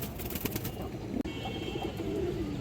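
Black-necked pigeons coo softly in low, rolling calls with faint chirps and background hum, the birds close but quiet, with one brief thump midway.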